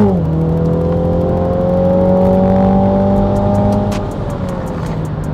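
2021 MINI John Cooper Works GP accelerating hard, a loud close engine roar rising steadily in pitch, then a gear change near the end with a short dip before it pulls again.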